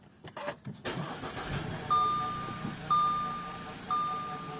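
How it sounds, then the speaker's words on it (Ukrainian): A 2013 Audi A5 with a starting fault cranks and fires up, then settles to a steady idle, with a warning chime beeping three times at regular intervals; a voice speaks briefly at the start. "Ну, Працює. Це вже гарно. Ауді опять."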